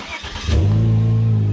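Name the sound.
Volvo S60 with LY6 engine running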